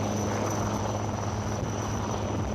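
Military helicopters flying over the Cariappa Ground NCC rally in Delhi, carrying a quick action team, give a steady, loud rotor drone and engine hum that fills the whole stretch without pause.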